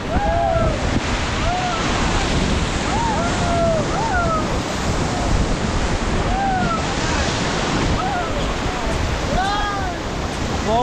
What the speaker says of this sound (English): As your raft glides along with the swift river